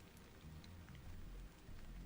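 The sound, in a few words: rain falling in the video game Stellar Blade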